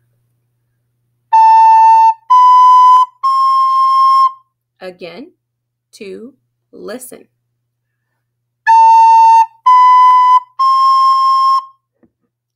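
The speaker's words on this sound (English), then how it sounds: "I'm playing la, ti, do" Three ascending sustained notes, la, ti, do, played for a solfege ear-training exercise, ring out clearly and then repeat after a short spoken interjection.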